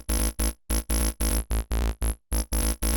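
A buzzy, gritty psytrance synth lead plays choppy repeated notes with short gaps between them, loud and close, with no talking.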